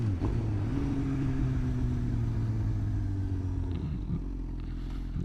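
Engine of a 2025 Suzuki GSX-R 750 motorcycle blipped for rev matching during slow-speed riding, a steady close mid-pitched drone that climbs and holds before dropping back, continuous throughout with no talking.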